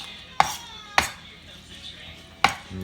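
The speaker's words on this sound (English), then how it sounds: "Go over it a few more times with a knife" Three sharp knife chops on a cutting board through a chorizo mixture seasoned with cumin, close and crisp, two in quick succession and then a pause before the third.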